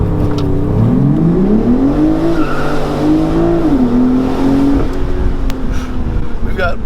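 A 2020 BMW Z4 M40i roadster performs a launch start, its engine revving hard and rising in pitch over a few seconds with tire noise, loud and close, while someone talks over it.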